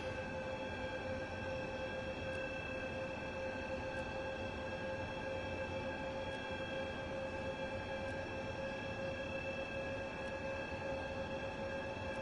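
A DB BR 187 electric locomotive in Train Sim World 3 runs at a steady pace. It gives a constant, even rumble with sustained electric tonal whines above it, at moderate level with no breaks.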